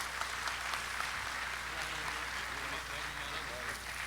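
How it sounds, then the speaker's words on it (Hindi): Applause from a mushaira audience at a poetry gathering in Jeddah, a steady, moderately faint patter of clapping from a hall, with low murmuring voices underneath and a constant hum. "जनाब वासिफ़ फ़ारूक़ी को तालियों से मुबारकबाद पेश कीजिए।"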